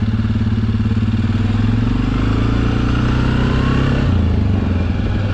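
The engine of a 17-year-old Suzuki KingQuad ATV runs in high gear with a loud, steady, close-up drone and a rapid pulsing rumble, slightly shifting in pitch, with no talk.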